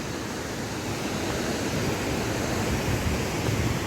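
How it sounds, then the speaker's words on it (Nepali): A village waterfall in Kulekhani, Nepal, heard as a constant broadband rushing roar, steady and fairly loud with no pauses or other sounds standing out. "खतरा खालको झर्ना"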